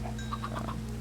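A Minecraft chicken in a video game gives a few short, soft clucks over a steady low background hum, quick evenly spaced clucks lasting about a second.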